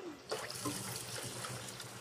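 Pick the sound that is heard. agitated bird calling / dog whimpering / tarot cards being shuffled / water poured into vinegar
water poured into vinegar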